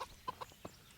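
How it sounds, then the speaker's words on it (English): Chickens in the medieval game Kingdom Come Deliverance cluck in a few quick, soft, close bursts. "Hello, chickens."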